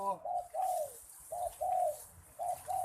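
Doves coo in short, repeated two-part phrases, soft and rounded, with brief pauses between each call, close by.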